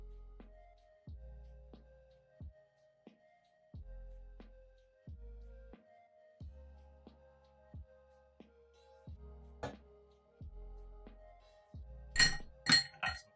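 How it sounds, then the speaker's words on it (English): Ice cubes dropped one after another into a slightly smaller glass for salted caramel iced coffee, a series of bright clinks at a steady pace, ending in a louder cluster of sharp rattling chinks close by. "I'm going to get a couple more ice cubes."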